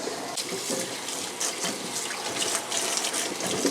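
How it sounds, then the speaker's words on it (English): A kitchen tap runs steadily into a sink while celery and carrots are rinsed under it, a close, continuous hiss of water with small splashing variations. "I'm gonna go ahead and get the celery and carrots washed."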